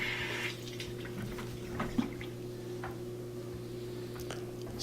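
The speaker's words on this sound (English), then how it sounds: "I'm going to pour some water in a bucket, put it inside the tub so I can get a better idea." Water pours from a bucket into the tub of a leaking top-loading washing machine, a steady splashing wash over a low mechanical hum, with a few small knocks and clinks.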